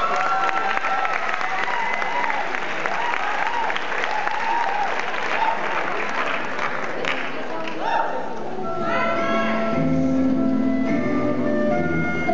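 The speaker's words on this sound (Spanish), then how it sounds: "Un fuerte aplauso, por favor." Dense, loud audience applause from a crowd at a danzón dance performance, sustained for most of the stretch before thinning as voices and a cheer rise near the end.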